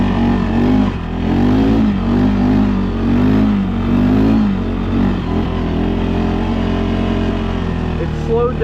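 A 2025 CFmoto CForce 600 ATV fitted with an RNG full clutch kit accelerates with a loud, close engine drone whose pitch rises and falls in waves, then evens out into a steady run.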